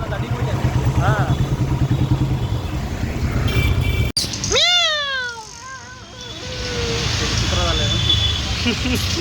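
A cat meows in a short series of rising and falling calls close by, sounding over steady traffic and motorcycle rumble, with people talking before it.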